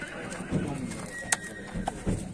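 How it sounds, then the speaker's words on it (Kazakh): Horses at a livestock market whinny in a clear neigh partway through, with hoof clip-clop and shuffling nearby against a busy outdoor background. "Жылқылар келген."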